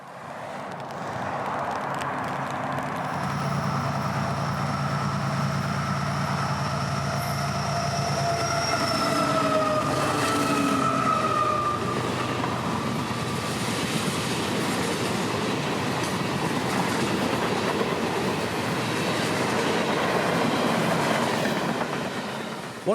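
A Florida East Coast Railway southbound intermodal freight, train 105, rolls past at a grade crossing spot, a steady loud rumble of wheels and cars with a horn blast early on and occasional squeals, continuing without a break throughout.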